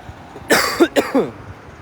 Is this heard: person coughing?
yes